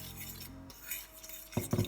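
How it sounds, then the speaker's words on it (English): Fried chicken coating ingredients with ground ginger being mixed in a bowl, soft scraping and stirring followed by a couple of sharp utensil clinks against the dish, with no talking. "Then you're going to mix all the ingredients together, making sure that everything has been evenly distributed."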